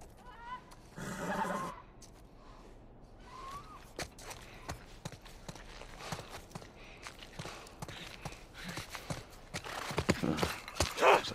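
A horse in The Last of Us Part I whinnies and snorts, then its hooves clop and shuffle around nearby, soft at first and growing busier with a few sharper thuds toward the end.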